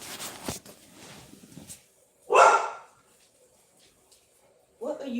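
A dog barks once loudly nearby, with a second shorter bark at the end; faint movement and whimpers before it.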